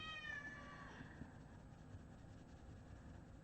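A cat meows close by, a rising then falling cry with clear harmonics at the very start, fading into steady low room noise for the rest.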